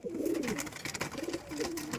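Pigeons in a loft coo softly and repeatedly, overlapping low rolling calls close by with no talk.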